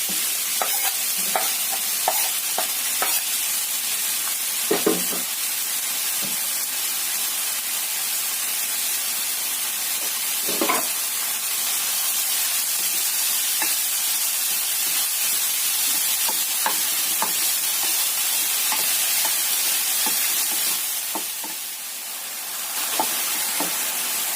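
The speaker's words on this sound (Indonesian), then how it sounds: "masukkan kucainya. Kita tumis sampai layu." Garlic chives stir-fried in a pan for a home-cooked Indonesian dish: a steady, close sizzle and hiss runs throughout, broken by scattered scrapes and clicks of the spatula moving the greens.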